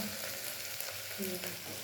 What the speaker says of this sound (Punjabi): ਪਿਆਜ਼ ਭੁੱਜ ਰਿਹਾ ਕੁੱਕਰ ਵਿੱਚ